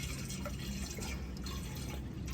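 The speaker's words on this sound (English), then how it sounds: "Right, got to get the coolant in now" Coolant is poured into a Claas Lexion 8700 combine through a makeshift funnel, a soft steady liquid trickle and drip under a constant low machine rumble, with no talk.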